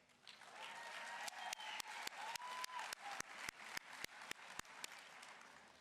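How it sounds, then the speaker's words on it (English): Audience applause at a business and nursing graduation ceremony, a broad wash of clapping from a large hall with sharper individual claps standing out near the microphone, swelling over several seconds. "A big round of applause for the end of tuition bills."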